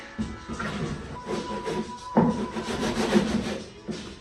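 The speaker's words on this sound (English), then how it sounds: "let me sand that a couple of spots to verify the fit" Close, uneven scraping and rubbing strokes of sandpaper against wooden parts of a model tugboat, in short irregular bursts, fairly quiet with no talking.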